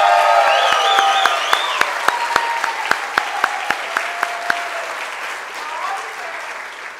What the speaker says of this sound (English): please give one more round of applause for Alex.